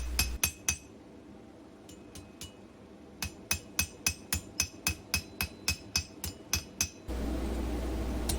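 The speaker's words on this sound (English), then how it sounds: "Because this leaf is so small, I came in with a smaller hammer that I could just control where it hit a little bit better." A small hammer strikes a small metal rose leaf on an anvil, sharp ringing taps in a few quick bursts, then a steady run of about fifteen evenly spaced blows, close and clear with no speech.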